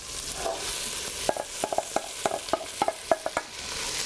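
Corn stirred into a frying pan for succotash, a soft sizzle under a run of about a dozen sharp, close scraping taps in an uneven rhythm from the second second on.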